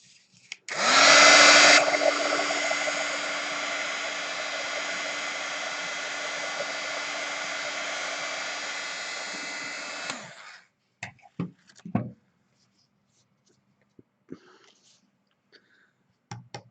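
Hair dryer blowing over a watercolor painting in a hot press journal, a loud steady whir running about nine seconds before switching off, followed by a few faint clicks and handling sounds.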